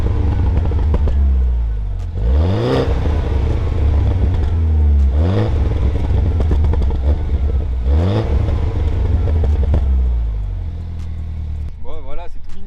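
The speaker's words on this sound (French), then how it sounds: "je vais vous faire écouter un peu les petits retours de la voiture, là, parce qu'elle est chaude, c'est bon, on peut faire des petits pétarades" A hot Porsche GT4 with its stock exhaust revs up and drops off three times, each lift-off followed by crackling pops, with a loud, close engine note throughout.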